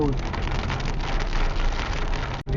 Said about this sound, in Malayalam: അങ്ങനെ നല്ല മഴ സ്റ്റാർട്ട് ചെയ്തു